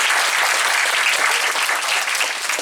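A seated audience at a sports science talk on Japanese baseball claps steadily in thanks to an interpreter, a full, even burst of applause without speech.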